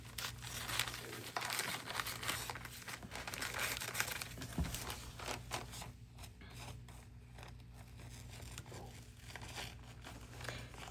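Scissors cutting out paper pieces, close and quiet, with repeated snips and soft crinkling and rustling of paper in an irregular rhythm, no voices.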